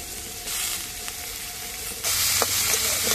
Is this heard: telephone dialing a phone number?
no